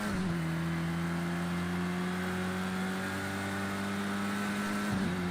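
A race car in Project Cars 2 pulls out of the pits at Brands Hatch GP, its engine holding a steady, droning note near and loud, with a brief shift in pitch near the end.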